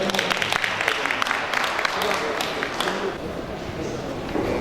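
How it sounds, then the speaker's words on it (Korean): Audience applause at an indoor public gathering in Korea, with broad steady clapping throughout that fades slightly toward the end, voices mixed in. "큰 박수로 해주시면 고맙겠습니다"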